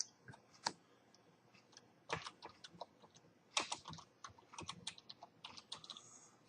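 Computer keyboard keys clicking while a new test contact is entered into quotation software, with quick irregular bursts of close, crisp keystrokes and short pauses between them.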